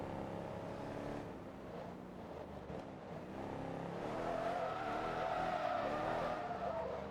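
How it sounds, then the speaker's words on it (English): Tires screeching in a rally racing video game, a sustained wavering squeal over a steady engine drone, moderately loud and continuous, rising in intensity in the second half with no talk. "the tire screeching is loud on this"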